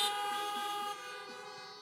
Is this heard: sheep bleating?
no